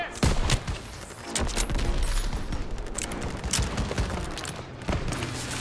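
Dense gunfire from a World War II video game fills the scene, with rapid overlapping shots and booms around a courtyard with an anti-aircraft gun, loud and continuous throughout.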